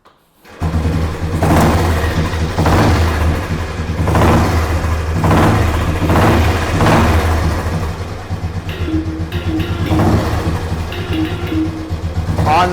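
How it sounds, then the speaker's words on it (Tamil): A Royal Enfield motorcycle engine starts up abruptly and keeps running with a steady low rumble, rising and falling in repeated revs, loud and close. "ஸோ வெஹிக்கிளை வந்து ஸ்டார்ட் பண்ணி காமிச்சிடுறேன்."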